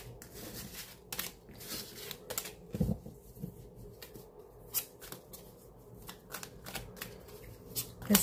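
Tarot cards being shuffled by hand, a run of soft, quick papery riffles and slaps in short bursts, close and fairly quiet, with no voices.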